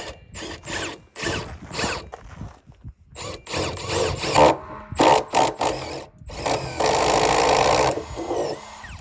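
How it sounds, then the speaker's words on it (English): A power tool sands burrs off the edge of a hole cut in a plastic rain barrel for a bulkhead fitting, heard in loud bursts of grinding and whirring broken by short pauses, close by, with no talking. "So I sanded that down a little bit just to get some of the burrs off."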